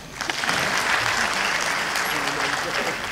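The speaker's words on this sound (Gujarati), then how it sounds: "વધાવો તાળીઓથી" A crowd at a Gujarati lok dayro folk gathering bursts into loud, dense applause that holds steady throughout, with faint voices mixed into the clapping.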